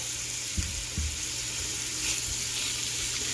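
Beef sautéing in an Instant Pot for autumn beef stew gives a steady broadband sizzle with a couple of low thumps from stirring or shifting meat near the start, no voices.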